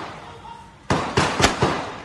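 Several sharp, loud gunshots crack out in quick irregular succession, about four reports, echoing over a steady background hum during a shootout between a former policeman and police in Caloocan City.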